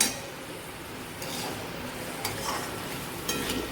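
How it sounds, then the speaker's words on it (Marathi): Soaked moong dal sautéed in a pan, a continuous soft sizzle with rhythmic scraping of a spoon stirring against the pan, a few sharper scrape strokes standing out, no voices. "ही डाळ पण चांगली परतून घेते"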